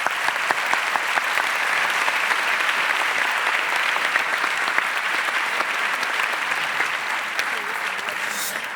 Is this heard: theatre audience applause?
yes